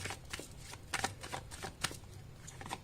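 Tarot cards are shuffled and drawn in a series of soft, quick riffling and sliding bursts, close and quiet, with no talking.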